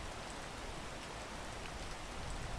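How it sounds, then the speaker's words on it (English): Steady rain in the video game PEAK, a soft, even hiss of falling drops that holds throughout without pauses or voices. "Let's try not to get poisoned and wait for the rain to go away."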